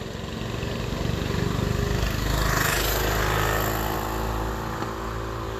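Small-engine mini bikes passing close by, a buzzing motor drone that swells to a peak midway and then recedes, steady and fairly loud throughout.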